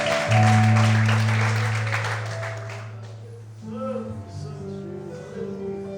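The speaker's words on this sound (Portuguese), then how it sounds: "Você pode aplaudir a Deus" Loud church congregation applause rises over a sustained musical drone, then thins out and fades as the music carries on beneath.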